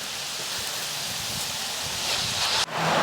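Rain falls steadily outdoors near a lake under a tree, a continuous soft hiss mixed with leaf rustling and light wind buffeting, with a brief dip near the end before the wash resumes.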